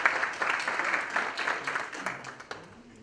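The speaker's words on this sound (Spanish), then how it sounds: "Damos un aplauso, por favor." A conference audience claps for a speaker, a dense burst of applause that fades toward the end, with faint voices underneath.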